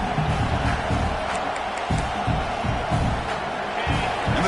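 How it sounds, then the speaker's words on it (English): A stadium crowd at a college football game, Texas A&M vs Alabama, roars and cheers loudly as the home defense digs in near the goal line, a dense continuous swell of voices with rising shouts throughout. "the crowd coming to life here, trying to help this defense down in the red zone"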